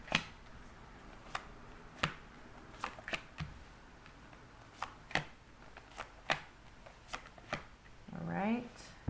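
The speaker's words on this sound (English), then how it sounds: "let's pull some cards here" Tarot cards being shuffled and pulled, giving a run of sharp riffling snaps and flicks spaced irregularly across the clip, close and fairly quiet, with a brief voice sound near the end.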